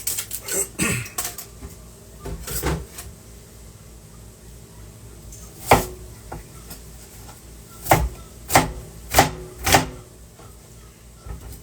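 White onion sliced with a knife on a cutting board while fish is prepared: a series of sharp, irregular chops and taps, several louder strokes clustered toward the end, close and dry against a quiet room.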